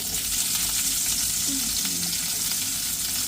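Onions frying in a hot pan for a spinach dish, a loud dense sizzle that continues without a break and carries a few scraping stirs partway through.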